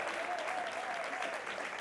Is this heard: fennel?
no